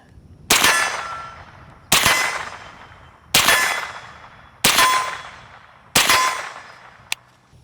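Five sharp shots at an even pace from a Springfield Armory Kuna fitted with a Banish 9K suppressor, each a crisp crack with a ringing metallic tail, followed by a faint click.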